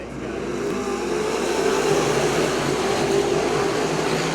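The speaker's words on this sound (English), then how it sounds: "It'll be Kuba, Combs, Giassi, Kuba, Matuska, the top 5 as we are ready to come back green with 6 to go" Non-wing sprint cars restarting a race at Cedar Lake Speedway, a loud, dense roar of several engines accelerating together, steady and close throughout with no voices.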